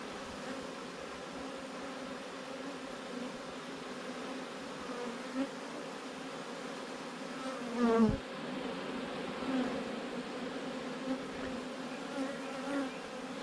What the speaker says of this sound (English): So if you can see these bees here, see how they're fanning?